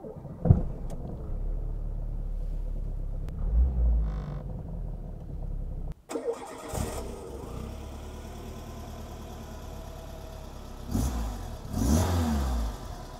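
A 1991 Peugeot 309 GT with an XU petrol engine cranks briefly and catches midway, then settles into a steady, close idle with a couple of light revs near the end.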